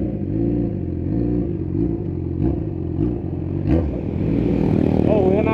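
A straight-piped Yamaha XJ6 motorcycle revs and accelerates past amid street traffic, a rough engine note rising toward the end over a steady low rumble.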